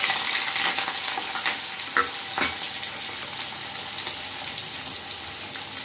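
Onions fry in mustard oil in a kadhai with a loud, steady crackling sizzle up close, a couple of brief clatters from stirring near the start, and no voices.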